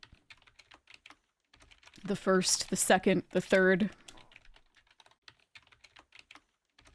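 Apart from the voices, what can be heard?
typing on a laptop keyboard in a video game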